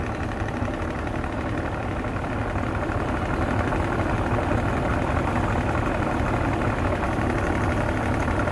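Engine of a fresh gas cargo ship under way on a river, a constant loud low drone with a rough rumbling texture that never lets up, alone with no speech.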